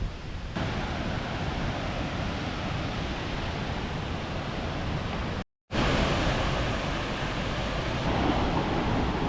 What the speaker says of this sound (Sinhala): මේ තියෙන්නේ වර්ණගල ඇල්ල